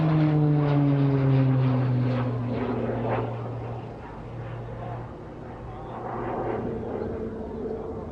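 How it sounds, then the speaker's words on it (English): A military propeller aircraft flying aerobatics at a Scottish airshow, a steady droning engine whose pitch slowly falls as it passes, with a voice talking faintly beneath it. "Flying these aerobatics enables the pilots to develop their flying skills to the full and explore the aircraft performance."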